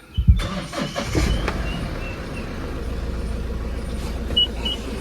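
A pickup truck engine cranks and catches after a brief click, then settles into a steady low idle, close by with no one talking.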